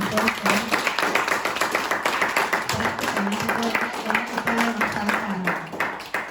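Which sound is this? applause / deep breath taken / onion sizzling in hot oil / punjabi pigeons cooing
applause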